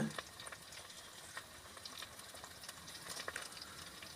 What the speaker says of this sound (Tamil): எண்ணெய் காஞ்சதுக்கப்புறம் கடுகு வெங்காயம் போட்டு நல்லா வதக்கி விட்டுடலாங்க